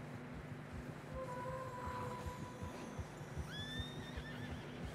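Horses in the Red Dead Redemption 2 video game let out a couple of high, wavering neighs over a steady rhythmic clip-clop of hooves on a snowy trail, all fairly quiet.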